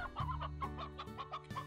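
Chickens clucking in the farming video game Slime Rancher, a rapid series of close, clear clucks in an uneven rhythm, with a steady game soundtrack underneath.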